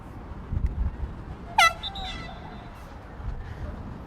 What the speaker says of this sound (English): As the air horn will sound any second.